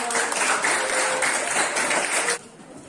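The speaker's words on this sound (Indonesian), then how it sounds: "sekali lagi tepuk tangan" A classroom audience claps together for a group presentation, a steady burst of applause lasting a couple of seconds before stopping abruptly.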